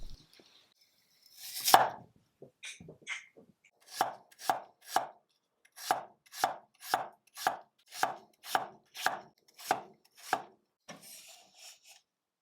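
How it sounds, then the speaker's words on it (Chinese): Knife on a cutting board, cutting onion into strips and slicing potatoes thin, with a steady run of about fifteen crisp, evenly spaced chops heard close up and alone after a few irregular cuts. "洋葱切成丝，然后土豆切成薄片。"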